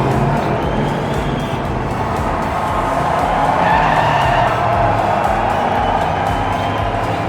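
Diecast model race cars, including a Corvette and a Nissan, rush down a miniature track in a Group 4 race, with a steady loud rolling roar and skidding tire noise throughout.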